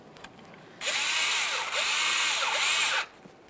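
A power tool whirs steadily for about two seconds with a brief dip midway, tightening a hose clamp on the vapor canister vent filter of a 1999-2006 Chevrolet Silverado, loud and close against quiet surroundings.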